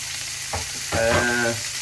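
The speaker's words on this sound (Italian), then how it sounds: "le salsicce continueranno a friggere con i fiarielli" Sausages sizzle with friarielli (broccoli rabe) in a frying pan, with a close, continuous crackle and a stirring scrape that briefly grows louder and busier midway, without any talk.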